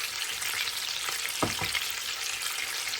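A roast browns in a hot frying pan with a steady, dense sizzle, a couple of soft knocks from the pan midway, and no talking.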